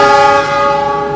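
An Argo Semeru passenger train sounds its horn as it departs an Indonesian station: a loud, sustained multi-tone blast that holds steady for about a second, with no talk.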